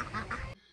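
A duck quacking nearby outdoors, two or three short raspy quacks in quick succession that stop abruptly.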